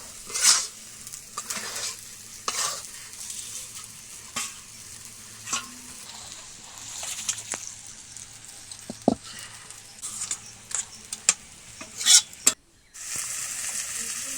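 A spoon scrapes and stirs pumpkin curry in a frying pan, with sporadic clicks and knocks against the metal over a steady low sizzle, and a louder hiss of frying near the end.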